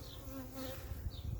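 Honeybees buzzing during a hive inspection, a close, steady droning hum with a few individual bees passing near, no speech over it.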